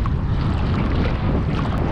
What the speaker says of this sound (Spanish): Hay un poco de olas.